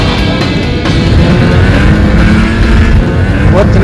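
A 500cc snowmobile roars steadily around a racetrack, a loud continuous engine drone that holds close and strong throughout with slight shifts in pitch.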